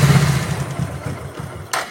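A carburetted engine being tuned for mileage is started and held at raised revs. It gives a short, steady mid-pitched running note at close range, with a brief hiss near the end.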